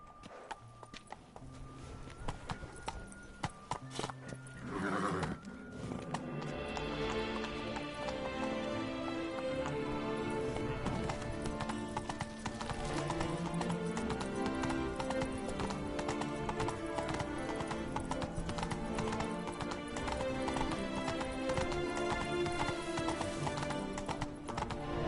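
The horse Roach gallops in The Witcher 3, steady clip-clop hoofbeats running continuously with an occasional whinny, set against a dense game music score that swells from a quieter opening.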